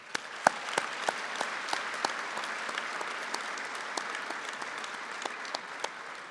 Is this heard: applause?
yes